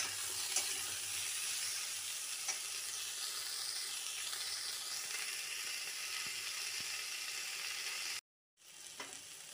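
Mixed vegetables with slit green chillies sizzle steadily in a pan, a dense, even frying hiss with faint stirring scrapes, cutting out briefly near the end before resuming.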